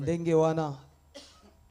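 A man's throaty, voiced cough comes in a short burst up close, followed by a softer second cough or throat clearing after a brief pause.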